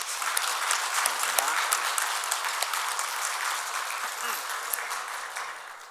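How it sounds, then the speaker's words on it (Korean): A church congregation applauds steadily to welcome a family newly moved in, a dense, even wash of many hands clapping that holds for about six seconds with faint voices mixed underneath. "박수 한번 드리도록 하겠습니다."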